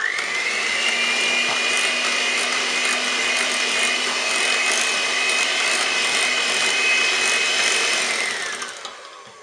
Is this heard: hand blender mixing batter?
yes